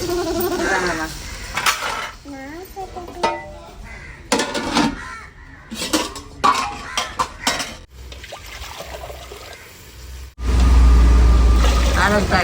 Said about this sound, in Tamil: இப்போ பெரிய குண்டான்ல ஊட்டி கலைக்கிறேன்